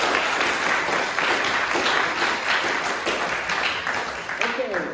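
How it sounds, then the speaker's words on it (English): A book launch audience for a San Francisco haiku anthology applauds, dense clapping filling the room with some murmuring voices mixed in, steady throughout and easing slightly toward the end. "I think a big round of applause for Silvia Poloto"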